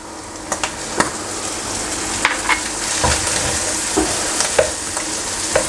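Mutton keema frying in a karahi with ginger garlic paste gives a steady, loud sizzle, broken by occasional scrapes and clinks of a stirring spoon against the pan.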